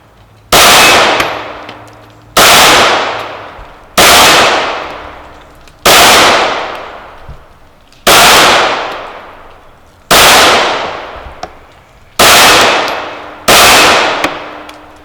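A Rex Zero 1S 9mm pistol fired double action then single action, eight loud sharp shots in a steady string roughly two seconds apart, each with a long ringing decay, no talking.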